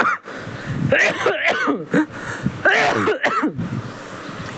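A person coughs and clears their throat several times in quick, harsh bursts, close up with rasping breaths between.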